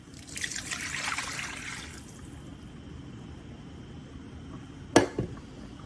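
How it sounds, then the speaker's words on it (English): Turkey broth pours into gravy, a soft trickling splash that fades, followed by a single sharp clink near the end, heard close and fairly quiet without speech. "Now we're going to add in 4 cups of our turkey broth."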